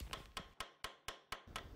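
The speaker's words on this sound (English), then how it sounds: "use a light ball peen hammer to rivet the nails so that it spreads out over the rove" A light ball peen hammer strikes copper nails, spreading them over roves in traditional clinker boat construction; six sharp, evenly spaced metallic taps ring out close and alone.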